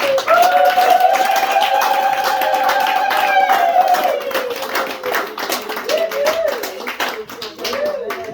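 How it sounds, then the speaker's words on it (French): Choir members and guests at a birthday celebration in Granby, Quebec clap in an irregular patter while voices sing a sustained tune over the opening, then the clapping continues under chatter and talk. "chers choristes, un applaudissement pour notre maman"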